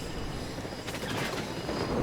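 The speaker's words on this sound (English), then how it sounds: "Challenger trying to shoot down this helicopter, having some trouble, causing some harassment." A military helicopter in the real-time strategy video game WARNO gives off a steady, broad rotor and engine drone throughout, mid-distance and continuous, under game ambience.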